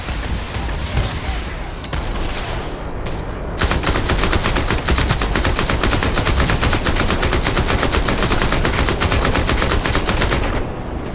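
A big gun in a video game firing long rapid bursts, dense loud machine-gun-like rattling that starts in shorter volleys and then runs continuously for several seconds, close and dominant.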